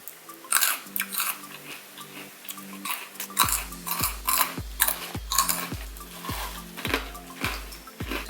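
Crunching on a small baked corn snack from the Philippines, with sharp crisp bites and steady chewing close up, growing into a regular rhythmic crunch in the second half, no talking.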